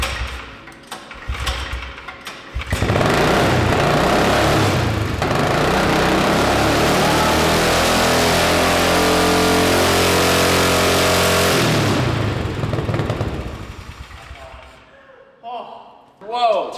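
A supercharged engine in a tiny mini trophy truck cranks, catches and runs with a buzzy, high-pitched revving drone for about nine seconds, then dies away. People talk before and after.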